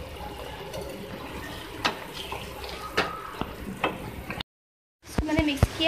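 Egg and spinach mixture being stirred in a pan, scraping spoon strokes and soft knocks over a low sizzle, a brief silent gap, then wetter sloshing stirring with faint voice.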